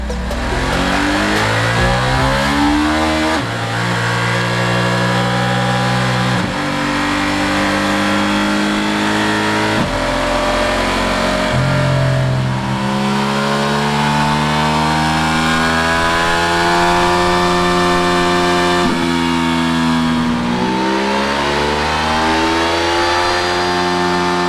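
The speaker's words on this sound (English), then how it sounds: "let's get the bike run on the dyno" Ducati Multistrada 1260 Pikes Peak with its DVT engine running on a dyno, repeatedly revving up in long rising sweeps that drop back and climb again, loud and close with a harsh buzzing exhaust note.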